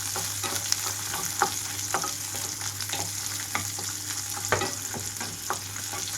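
Sliced onions for a street-style chutney frying in a pan, a steady close sizzle broken by regular spatula scrapes and light taps.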